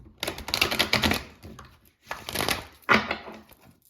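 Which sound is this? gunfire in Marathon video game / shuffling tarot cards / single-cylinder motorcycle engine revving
shuffling tarot cards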